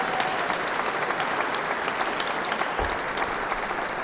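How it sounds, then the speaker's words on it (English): Audience applause rises during a keynote by BC Premier John Horgan at a 50th anniversary event. The crowd claps continuously and evenly throughout, with a brief low thump near the end. "Maybe a clap would be good"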